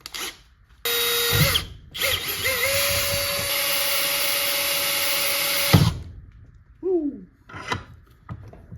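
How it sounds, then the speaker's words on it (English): A power drill whines loudly in two long bursts, drilling holes for an underhood wiring harness, its pitch steady under load, followed by brief clatter and short drill revs. "I'm just going to drill both holes"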